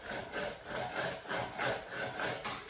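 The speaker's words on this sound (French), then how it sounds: "Elle frotte le pied à terre avec un enfant." A child rubs a foot back and forth on the floor, making about six rhythmic scraping strokes in quick succession, close and fairly quiet.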